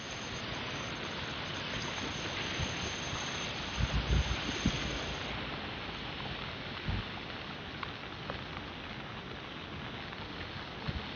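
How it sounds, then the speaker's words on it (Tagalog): Steady rain hisses across the whole stretch in Singapore, with a few brief thumps and splashes rising out of the wash. "Kasi umuulan guys dito sa Singapore."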